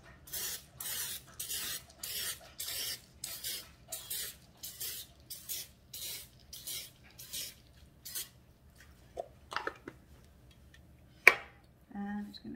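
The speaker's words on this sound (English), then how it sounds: "I'm just gonna take the muffin pan, just a quick spritz." Cooking spray spritzed onto a muffin pan in a home kitchen while baking cornbread and dinner rolls: about nine short, hissing bursts in a steady rhythm, followed by a few soft clinks and knocks.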